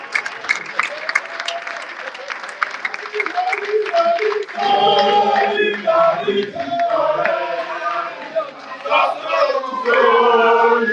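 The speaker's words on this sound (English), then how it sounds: "Just be clapping, just be clapping, just be clapping." A crowd at a live rally claps steadily in rhythm, the beat continuing under chanting and singing voices that grow fuller midway.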